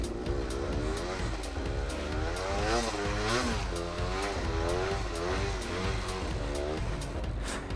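A Yamaha DT125R motorcycle drifting, its engine note rising and falling in wavering revs that stay close and fairly loud throughout.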